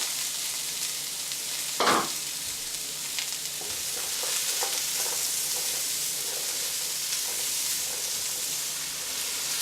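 Carrots and peppers sizzle steadily in a hot pan, a dense continuous frying hiss with one louder crackling burst early on and faint stirring noises, no voices.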